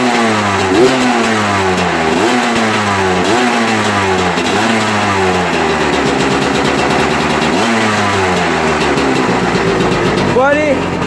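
A small Kawasaki motorcycle engine, running smoky, is revved repeatedly up close, each loud throttle blip rising and falling back to a rough idle in a steady cycle.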